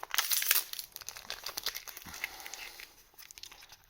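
A Z/X Eldersign Illusion "Silver Bullet" trading card booster pack wrapper is crinkled and torn open up close, with a burst of sharp rustling followed by softer crumpling.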